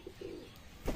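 Short soft cooing from pattra pigeons kept at a home loft, a couple of low murmuring coos followed by a brief louder rustle at the end, close and alone without talk.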